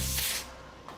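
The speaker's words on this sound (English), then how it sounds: "because it's such a thin spray, I'll let it sit for about 3 or 5 minutes" A thin coat of paint sprayed onto a McLaren car: a close, loud broadband hiss for about a quarter second that tails off into quieter room tone, with a faint click near the end.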